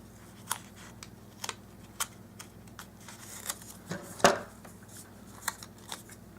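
Scissors snip through a sheet of printable budget-planner paper, giving a handful of quiet, sharp cuts spaced irregularly over a faint room hush, with one louder snip near the end.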